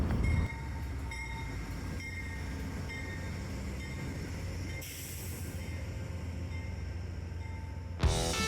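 A train rumbles along steadily from inside a carriage, with a constant low clatter and hum of wheels on rails and no talking.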